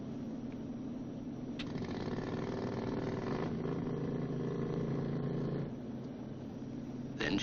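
The small auxiliary power unit, the putt-putt engine aboard a B-29 bomber, starts up and runs as a steady low mechanical drone, muffled and moderately quiet, with a faint clunk near the start and a brief knock at the end.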